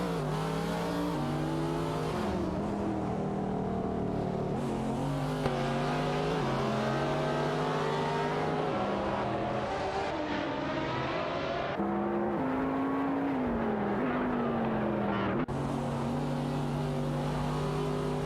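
Ferrari 60 America and Maserati Mach-12 race cars in a video game race roar continuously, engines revving up and down through gear shifts, loud and close.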